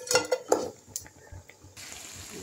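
Food being stirred in a pan for a Bengali fish-head chhyachra with pui greens, a few sharp metallic clinks and scrapes of utensil on pan, then a lid set on and a quiet simmering hiss.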